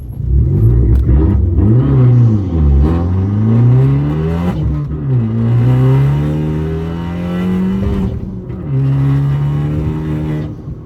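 A Fiat 500 Abarth fitted with a downpipe exhaust revs repeatedly, its loud raspy engine note rising and falling through several blips, heard up close and on its own without any speech.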